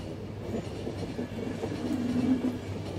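Moving train in the video game The Final Station, a steady low rumble of rolling carriages with soft clickety-clack and a brief faint wheel squeal, continuous and moderately loud with no voices.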